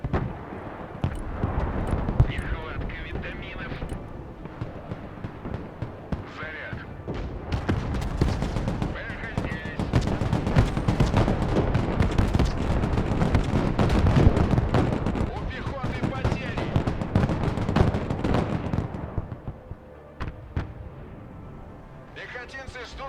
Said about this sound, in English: The artillery barrage will keep putting pressure on the main road.